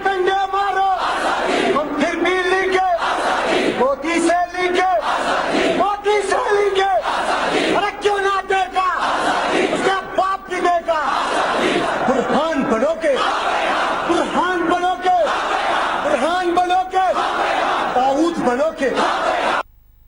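A large rally crowd in Pakistan roars rhythmic Azadi chants in repeated call-and-response bursts, loud and sustained, with a leader's voice leading the shouts.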